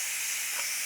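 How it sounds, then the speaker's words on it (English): Steady, loud hiss of steam venting from a Ninja Foodi pressure cooker, a continuous airy rush filling the short moment without any voice. "You can see we've come under steam now"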